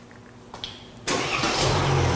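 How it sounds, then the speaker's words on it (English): A 2016 Mercedes GLE, triggered by a remote starter, cranks briefly after a faint click, then the engine catches and settles into a steady idle, close by with no talk. "and in a few seconds the car will start."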